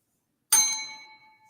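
A single bell ding rings out sharply after a moment of silence, a bright metallic strike that decays slowly with a lingering tone.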